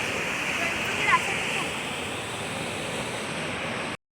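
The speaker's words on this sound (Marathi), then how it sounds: "पाठी खूप नदी आता पाणी वाढत चाललंय" A rain-swollen river roars in a steady, broad hiss close by, constant throughout before cutting off abruptly near the end.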